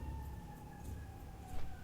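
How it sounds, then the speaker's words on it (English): An emergency vehicle siren outside, a faint wailing tone that slowly falls in pitch over steady low background rumble, distant and muffled. "I think it was another siren."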